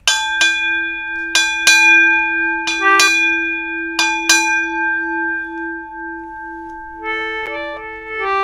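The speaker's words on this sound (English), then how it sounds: "he would ring the bell to mark the changing of the shifts, the watches" A ship's bell rung to mark the watch, struck in four closely spaced pairs of ringing strokes whose metallic tones hang and decay between strikes, followed by softer, higher chiming tones near the end.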